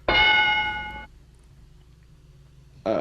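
A bright bell dings once and rings out for a second, then quiet hum before a second ding begins.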